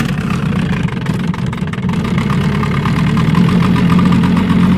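A Johnson 7.5 hp outboard motor running after starting, a steady close, loud mechanical drone with a rapid low chugging pulse throughout.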